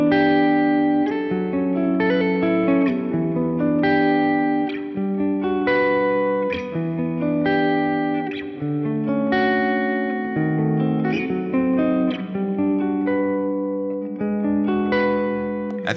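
Electric guitar, a Gibson SG, playing melodic chords and arpeggios with a bright, vintage clean, slightly effected tone, continuous and up close without any speech.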